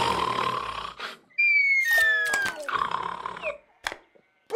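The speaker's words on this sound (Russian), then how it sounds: "Ты храпишь." A cartoon dog snoring, with a few loud wheezing, whistling breaths and snorts broken by short pauses, heard alone without speech.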